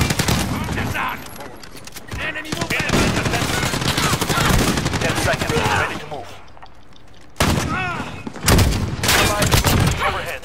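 Shotgun blasts in Call of Duty: Modern Warfare, loud, repeated shots mixed with other rapid gunfire and game effects, with a voice talking over parts of the action.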